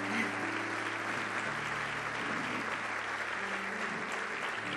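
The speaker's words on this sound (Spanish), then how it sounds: "les pido un aplauso para esas personas." Church congregation applauding during a sermon, sustained dense clapping filling the room at even loudness, with a steady background hum and faint tonal music underneath.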